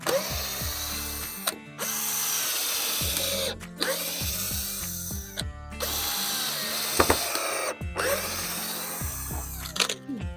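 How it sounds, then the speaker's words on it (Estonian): Power drill driving screws into wood while building a bunk bed, several long whirring bursts rising and falling in pitch, each separated by brief pauses, loud and close. "Samast võiks tegelikult ju puuri tuua, puuriga teha ka."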